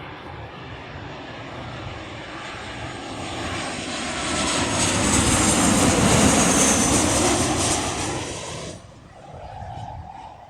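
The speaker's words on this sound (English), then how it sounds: "Got a 737 landing." A Ryanair Boeing 737 airliner coming in to land near Birmingham Airport, its jet engine roar swelling loud and broad as it passes overhead, then dropping away abruptly.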